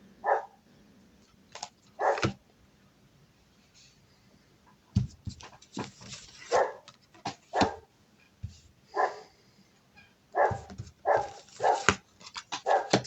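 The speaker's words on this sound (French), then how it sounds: "j'ai mon chien qui aboie" A dog barks indoors in repeated short bursts, some single and some in quick clusters, fairly close, with quiet gaps between them.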